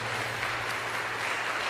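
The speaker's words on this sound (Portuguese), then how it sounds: "Vamos aplaudir o Senhor." A church congregation applauding the Lord during a service, a dense, steady burst of clapping from many hands filling the room, brief and fairly loud.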